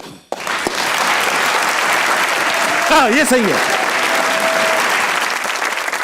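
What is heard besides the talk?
studio audience applause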